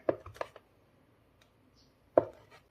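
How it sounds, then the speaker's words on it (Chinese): A knife chopping ham sausage into pieces on a cutting board: a few quick close taps, a pause, then another sharp cut, quiet and with no talking. "准备一根孩子爱吃的火腿肠，从中间给它切开，然后再给它切成4份"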